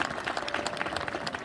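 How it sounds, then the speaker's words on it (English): A school audience at an IB authorization and anniversary celebration applauds, a brief patter of many hands clapping at a moderate distance, fairly quiet and steady. "a round of applause for helping us with all of that"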